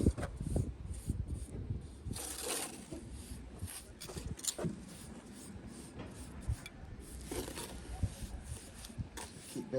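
A pointing trowel works mortar into the joint of a stone parapet, pressing it under the arris. It makes soft scraping and rubbing strokes at an uneven rhythm, close and fairly quiet, with a few sharper scrapes.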